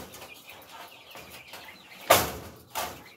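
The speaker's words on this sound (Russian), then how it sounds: "Все перепелочки переехали." Quails in a new enclosure give soft clucks and chirps nearby, with two sharper bursts of calling toward the end over a quiet background.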